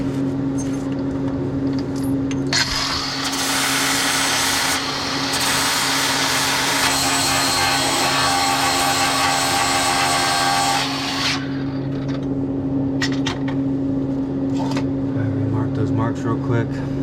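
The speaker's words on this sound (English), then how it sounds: "Take them off, grind these all off again." A grinder cuts off welded 4-link bar mounts under a lowrider Toyota wagon. The harsh grinding runs loud for several seconds over a constant low hum, and a voice can be heard around it.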